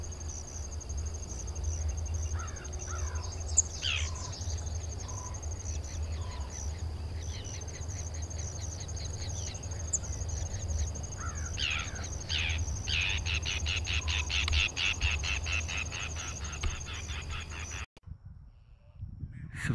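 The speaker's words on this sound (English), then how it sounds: "we're sneaking up on these birds" Birds calling outdoors in a field setting, with repeated chirps and trills over a constant insect drone and low rumble, fairly close and continuous, the sound cutting out abruptly near the end.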